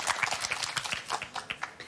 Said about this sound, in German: Ihr Applaus für Dirk Laabs